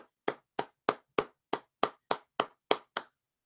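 A single pair of hands claps ten times in a steady, even rhythm, each clap sharp and close with a quick decay, alone with no talk.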